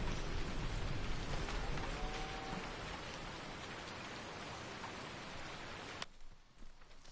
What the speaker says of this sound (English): We got some thunderstorms rolling in.